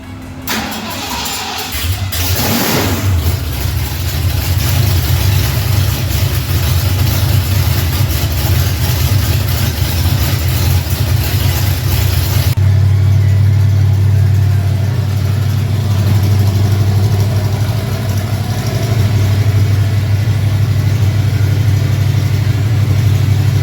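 A lifted mud truck on a 12-inch lift with front and rear lockers cranks over and fires up, then runs loud and steady with a deep rumbling idle that thickens partway through as the engine is revved.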